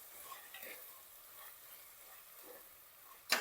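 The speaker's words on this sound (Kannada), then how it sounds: "ಎಣ್ಣೆಯಲ್ಲಿ ಹುರಿತಾ ಇದ್ದೀನಿ" Peas, capsicum and tomato frying in oil for methi palao, a soft steady sizzle with faint stirring scrapes throughout and a sharper clatter at the end.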